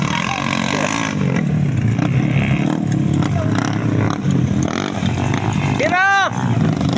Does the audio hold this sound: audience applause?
no